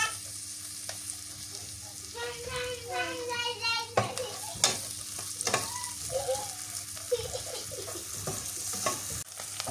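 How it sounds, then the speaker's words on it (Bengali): Onion and green chili fry in mustard oil in a village kitchen pan with a steady crackling sizzle, broken by the scrape and clack of stirring, and faint voices come through in the background. "কাঁচামরিচ আর পেঁয়াজ দিয়ে দিলাম এর মধ্যে, হালকা করে আগে একটু ভেজে নিই"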